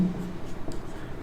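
Chalk or marker scratching across a classroom board during a biology lesson, a short run of quick, soft strokes heard close and alone.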